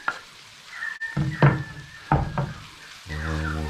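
Grated garlic and a big knob of grated ginger sizzle and fry in hot ghee for a spicy Rajasthani red mutton curry, with a couple of stirring knocks and scrapes of a spoon in the pan.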